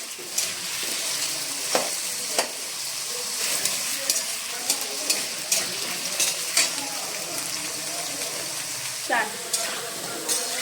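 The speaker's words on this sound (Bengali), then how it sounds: "আলুটা কিছুক্ষণ নেড়ে লাল করে ভেজে নিতে হবে" Potato pieces sizzle steadily in hot oil in a kadai, with a spatula scraping and stirring at irregular intervals, scaled up for a large household batch while making a murighonto from a katla fish head.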